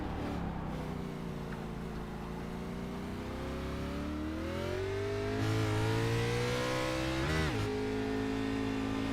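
A NASCAR stock car engine in the iRacing game at the Circuit of the Americas drones steadily, its pitch climbing through a gear and then dropping sharply at an upshift before revving again, close and continuous with no voices.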